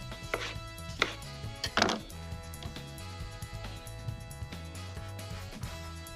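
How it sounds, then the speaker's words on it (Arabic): A knife slices tomato on a cutting board, with a few distinct close chops in the first two seconds and then softer light cuts over a steady background hum. "كمان قطع سلايسات"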